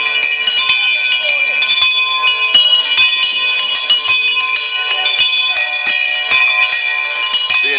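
Lincoln Cathedral bells rung by a full team of ringers as fast as possible, a loud, dense, continuous clangour of overlapping metallic strikes with rapid irregular rhythm throughout.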